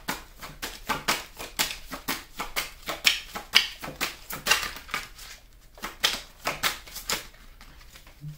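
Tarot cards are shuffled and drawn in a quick, steady run of crisp snapping clicks, close and fairly quiet, with no talking.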